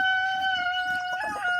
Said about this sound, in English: All right, let's get these chickens fed.